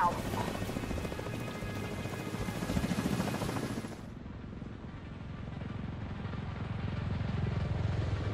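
Extraction helicopter in the shooter game The Division 2, a steady loud rotor whine and chop that drops to a lower, heavier drone midway and continues throughout.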